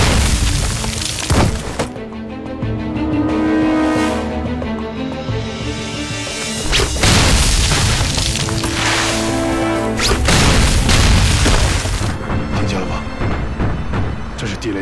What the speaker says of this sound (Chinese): 雷的声音，如果我没听错的话， 应该是炸战车的地雷，也就是可以炸坦克用的